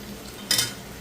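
Large onions fry with a little sugar and ginger-garlic paste, giving one brief, bright sizzle burst near the middle of an otherwise quiet moment.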